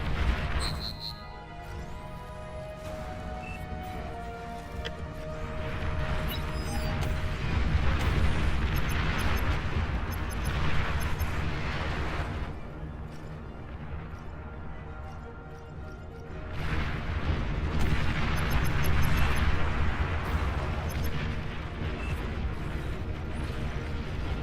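A commander unit blows up in the strategy game Beyond All Reason, setting off a long stretch of deep rumbling booms and crashing blasts. The noise swells in waves and stays heavy and sustained throughout, with no voices.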